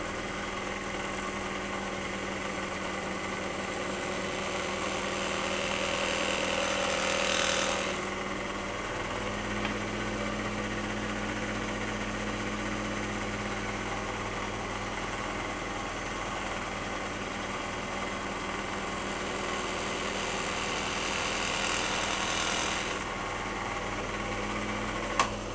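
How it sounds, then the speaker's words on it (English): A wax cylinder shaving machine runs at about half speed while shaving a moldy brown wax cylinder, giving a steady, fairly quiet mechanical whir and hum with slight shifts in tone as cuts proceed. "And I've got the machine running at about half speed."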